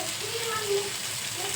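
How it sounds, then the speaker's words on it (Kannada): Tomatoes, onion and garlic fry in a little oil, giving a soft steady sizzle with faint stirring, brief and fairly quiet. "2 ಟೊಮೆಟೊ ಹಣ್ಣು, 1 ದೊಡ್ಡ ಉಳ್ಳಾಗಡ್ಡಿ, ಬೆಳ್ಳುಳ್ಳಿ ಇಷ್ಟನ್ನು ಒಂಚೂರು ಎಣ್ಣೆ ಹಾಕಿ ಫ್ರೈ ಮಾಡ್ಕೊಂಡು ರೀ."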